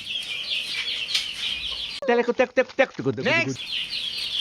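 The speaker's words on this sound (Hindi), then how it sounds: "ये हमारे चूज़े देखे दोस्तों कैसे मट्टी में खेलने लगे हुए हैं।" A group of five or six young chicks cheep and peep softly while scratching about in soil inside a covered bird cage, with someone talking in Hindi partway through.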